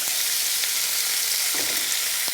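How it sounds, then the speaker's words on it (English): Beef searing in a hot pan for a Korean beef dish, giving a steady, hissing sizzle close up, with a few faint stirring or scraping sounds mixed in. "So we're just going to give it a quick sear"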